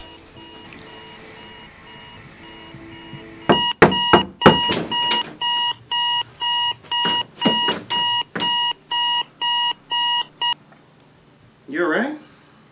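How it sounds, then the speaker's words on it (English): An alarm clock goes off with a rapid series of loud, evenly spaced electronic beeps after a few sharp clicks, then stops, followed by a brief voice. "Your alarm was going off"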